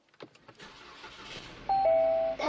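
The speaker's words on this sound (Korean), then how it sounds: "자, 시동 한번 걸어보도록 할게요" A used car, starting up: a few faint clicks and a short electronic chime, then the engine cranks and catches into a steady, quiet idle, heard close with no talk.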